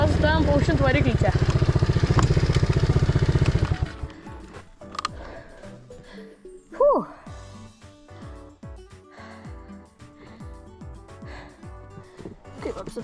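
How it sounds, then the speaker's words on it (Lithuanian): Off-road motorcycle engine revving hard and loud for about four seconds in muddy terrain, then cutting out, leaving quieter rustling, splashing and scattered knocks with a brief voice. "Paukšint variklį čia."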